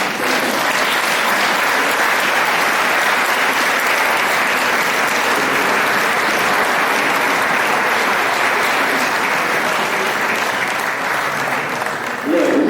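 Loud, sustained applause from a large audience at a live event in Orosei, dense and steady throughout without letting up.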